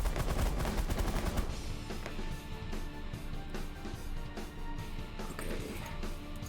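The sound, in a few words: minigun firing in the video game The Last Federation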